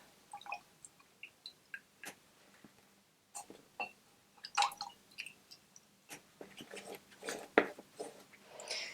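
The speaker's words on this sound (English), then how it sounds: "wash your brush out" An acrylic paint brush being rinsed in a water pot, with a series of small, close splashes, drips and wet squishing clicks in an irregular rhythm, fairly quiet with no talking.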